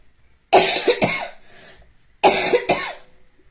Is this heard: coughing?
yes